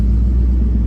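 A 1970 Chevrolet Chevelle SS convertible's engine gives a brief, loud, steady low rumble as the car sets off down the road.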